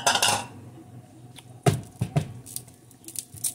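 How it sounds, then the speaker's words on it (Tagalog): A mixture drops into a frying pan with a clatter of metal, a loud burst of clinks at the start and then several sharp knocks and taps scattered through the rest, close up and with no talk. "Ilagay natin sa isang kawali."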